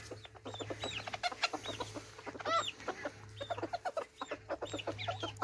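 Backyard chickens cluck and chatter close by, a busy overlapping stream of short clucks and squawks with a steady low hum underneath.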